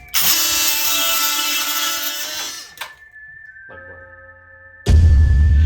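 A DeWalt 12V oscillating multi tool cuts a 2x4 held in a vise, buzzing loudly for a few seconds and then stopping, with a quiet whine lingering before a second loud burst at the end.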